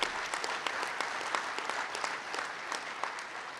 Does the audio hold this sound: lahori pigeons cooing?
no